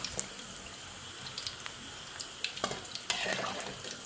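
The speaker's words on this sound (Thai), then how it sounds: "ก็ทอดเหลืองประมาณนี้นะคะ" Crab rolls deep-frying in hot oil, a steady close sizzle with scattered crackles and pops that grow busier toward the end, heard alone without speech.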